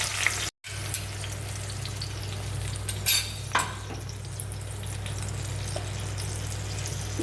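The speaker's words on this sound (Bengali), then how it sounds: "এই তেলে বাটা মশলাটা আমি এবার দিয়ে দিচ্ছি" Ground spice paste frying in a little oil in a pan for a Bengali cucumber curry, an even close sizzle with a brief cut near the start and a couple of utensil clinks, no talk.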